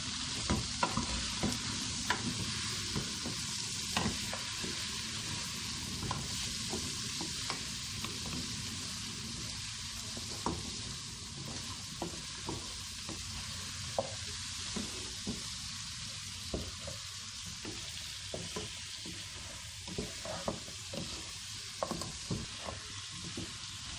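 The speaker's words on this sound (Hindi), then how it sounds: "अब इसे अच्छे से मिक्स कर लेंगे।" Balti gosht, meat with salt and crushed dried coriander, is stirred in a pan over steady sizzling, with repeated scraping strokes of the spoon sounding at an irregular pace throughout.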